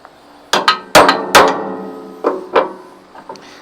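A steel roll pin is hammered into a quick hitch on an anvil in a run of sharp metallic strikes, three ringing blows close together, then a pause and two more, each clang decaying quickly.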